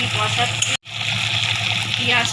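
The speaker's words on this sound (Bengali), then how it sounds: "দেখুন, আমি পেঁয়াজটা ভেজে নিচ্ছি।" Onions frying in a pan for a rui fish curry with potato and ridge gourd, a steady broadband sizzle with a brief cutout near the start, then continuing close and loud.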